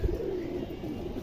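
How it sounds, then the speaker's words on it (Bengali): A domestic high-flyer pigeon coos close by, a low, continuous throaty murmur that rolls on steadily with no other sounds. "এই দেখেন খুবই সুন্দর একটা কবুতর"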